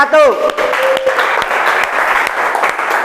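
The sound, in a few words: applause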